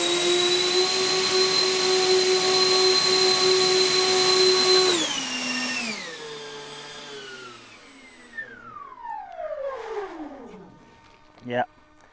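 Engines of a model A380 airliner at full thrust give a loud, steady, high-pitched whine for about five seconds, then spool down in stepped, falling tones that fade toward a quieter tail.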